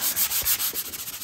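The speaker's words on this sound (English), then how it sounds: "Polyurethane varnish will sand. Now this is going to be quite tough." Dry sandpaper rubbing over polyurethane varnish on wood in a workshop, a steady close scratchy hiss in quick repeated back-and-forth strokes lasting about a second.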